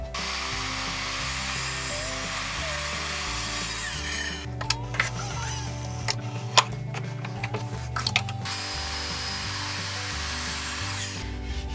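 A power saw set for 45-degree miters cuts painted wood trim for a chalkboard frame, with several short sharp bursts in the middle over a steady low motor hum and rumble.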